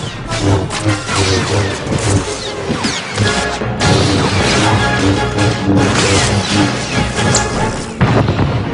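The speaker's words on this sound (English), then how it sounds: "From a distance, the trooper hits Iron Fist with a cryo grenade." A cryo grenade blast in the Star Wars: The Old Republic game amid loud, dense combat noise, with continuous crashing, booming impacts and whooshes throughout.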